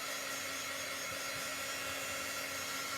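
A hair dryer blows steadily up close to dry a chalk transfer, giving a constant, unbroken whooshing hum with no pauses.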